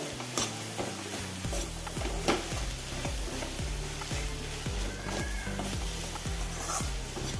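Mixed greens thoran being stirred in a pan, with steady sizzling and frying under rhythmic scraping strokes of a spoon, close and continuous without speech.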